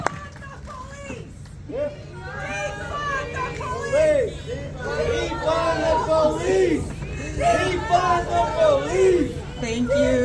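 A lively crowd at a rally against killer robots chatters and murmurs, with overlapping voices, scattered shouts and a rising babble throughout.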